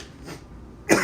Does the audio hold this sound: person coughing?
yes